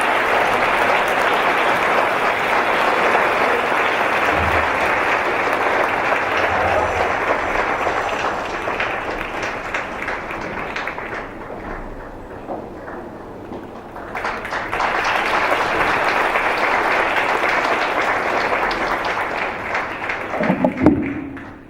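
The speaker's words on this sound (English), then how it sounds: "Let's give a round of applause as we welcome Cabinet Secretary Professor Margaret Kovia to the stage." Sustained applause from an audience at an awards evening as a cabinet secretary is welcomed to the stage, steady and dense for about twenty seconds, dipping briefly midway before swelling again.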